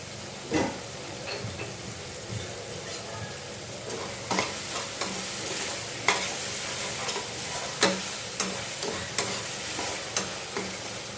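Ingredients for Tirupati chutney sautéing in a pan, a constant close sizzle with regular clacks of a spoon stirring against the pan, each stroke a short sharp knock, and no talking.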